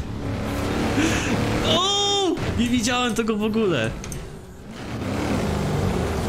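A tractor engine drones in Forza Horizon 4 while it is driven, a continuous low rumble that runs under animated talk and an excited vocal exclamation.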